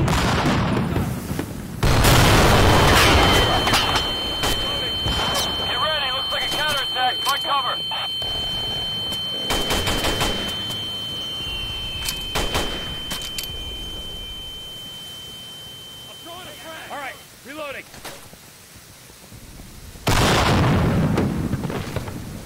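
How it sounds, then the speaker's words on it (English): A grenade explodes in the video game Insurgency with gunfire around it. Loud booms come at the start and near the end, with scattered shots, a sustained beep tone and shouted voices in between. "Grenade out!"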